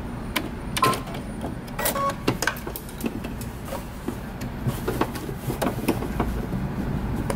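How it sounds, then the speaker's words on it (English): A sewing machine stitches a shirt collar with a back stitch in short, uneven whirring bursts, close and fairly loud, broken by small clicks between runs. "You want to pass your stitching just a little bit,"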